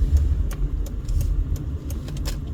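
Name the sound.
Zoox self-driving car approaching on the Las Vegas road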